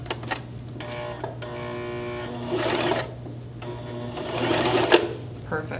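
Sewing machine stitching a card case, running in two steady bursts of rapid needle clatter with a short pause between them, close and clear.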